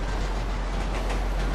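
A train in the video game GTA V rolls past with a dense, continuous rumble and faint clatter, loud and steady, with no voices.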